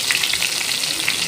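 Skin-on crushed garlic and a single chili frying in oil in a pan, a dense, crackling sizzle that stays close and steady throughout the short moment, with no voices.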